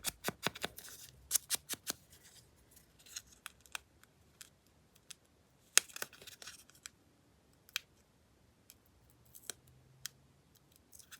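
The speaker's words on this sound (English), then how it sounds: "So we'll just cut it with scissors." Scissors snip through material for a silver and cloud colour project, with quiet, irregular clusters of crisp cuts and clicks, some rapid bursts and some single snips, close but faint, with no voices.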